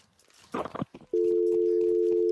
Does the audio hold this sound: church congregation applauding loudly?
no